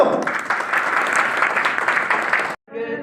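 Audience applause rings out after a speech at a public gathering, a dense, steady clapping lasting about two and a half seconds before cutting off abruptly, followed by a brief quieter tail.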